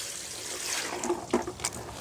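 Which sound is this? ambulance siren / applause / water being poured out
water being poured out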